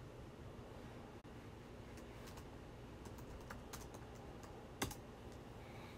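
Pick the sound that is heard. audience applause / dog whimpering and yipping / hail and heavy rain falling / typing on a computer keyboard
typing on a computer keyboard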